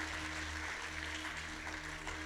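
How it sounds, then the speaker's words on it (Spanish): Church congregation applauding during a Spanish-language service, a steady wash of clapping with a faint sustained musical hum underneath. "Vamos a darle un aplauso al Señor."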